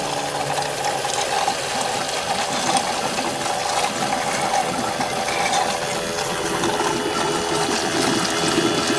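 Old, dark power steering fluid being suctioned out of a car's reservoir during a steering system flush, heard as a loud continuous gurgling slurp with mechanical clicking throughout.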